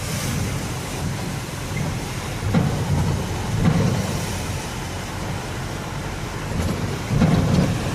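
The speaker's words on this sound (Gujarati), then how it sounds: "કેમેરામાં પણ બહુ વરસાદ છે" Heavy rain pours steadily on a long bridge over the Mahisagar river, a dense, loud wash of noise with occasional louder surges, no voices.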